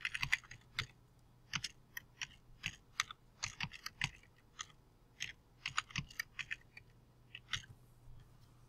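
Someone types a program name on a computer keyboard, crisp close key clicks in irregular bursts with brief pauses, quiet and alone.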